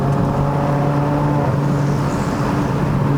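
A 2.0-litre Mazda 3 liftback pulling uphill on a mountain road, its engine drone holding a steady low hum with a faint rising tone, continuous and close, no talking.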